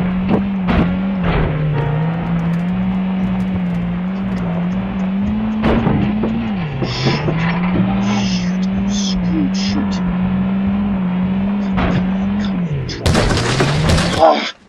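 Video-game car stuck in a forest, its engine droning steadily near and loud with pitch dips as it revs, broken by sharp knocks and crashes and a burst of noisy impact near the end.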